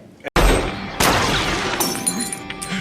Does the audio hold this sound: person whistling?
no